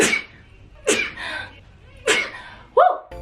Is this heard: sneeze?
yes